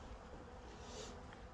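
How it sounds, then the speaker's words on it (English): Active honeybees inside an opened beehive being wrapped for winter, a faint, continuous buzzing hum heard close up with no voices. "there's obviously bees in there and they're active enough"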